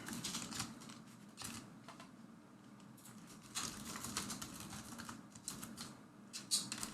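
Rapid, uneven clatter of keys on a computer keyboard, typed in bursts with short pauses, close up and fairly quiet with no talking.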